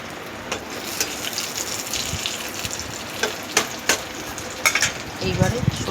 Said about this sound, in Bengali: একটু বাটিতে লবণ, মিষ্টি আর হলুদটা মিশিয়ে নিই।